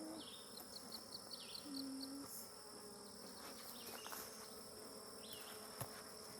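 Honeybees buzzing steadily around a hive during an inspection, a soft continuous drone with occasional closer passes, heard alone without talk.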